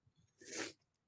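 A single sneeze from someone with bad hay fever, a short, fairly faint burst that swells and fades within about half a second, preceded by quiet sniffling.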